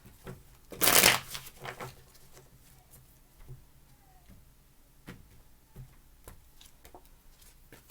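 A single short burst of tarot cards being shuffled, close and crisp, followed by faint scattered taps and handling sounds.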